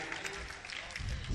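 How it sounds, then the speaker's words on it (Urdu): Applause from a mushaira audience welcoming a poet, a steady broadband patter of many hands clapping that swells slightly toward the end, with no voice over it. "تالیوں سے استقبال"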